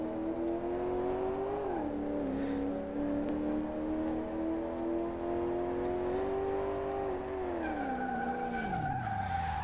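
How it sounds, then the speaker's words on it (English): A Shelby GT350 laps a race track in Car Mechanic Simulator 2018, its engine droning steadily with pitch dips and rises through shifts and corners, tires squealing as it slides. "it should smash 1 minute 34 and be the fastest car around the track."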